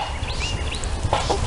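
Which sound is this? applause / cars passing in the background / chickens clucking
chickens clucking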